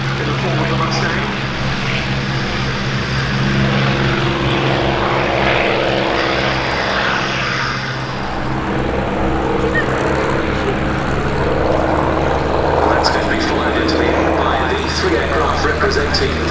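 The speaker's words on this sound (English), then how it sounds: "Another associated with this airfield rolling out in the form of the Mustang." A P-51 Mustang propeller aircraft taxies at a Battle of Britain airshow, its piston engine a steady, loud drone throughout, with a commentator talking over it on the public address.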